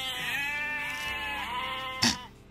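A goat bleats in a long, wavering cry lasting about two seconds, loud and close, followed by a brief sharp burst of noise as it ends.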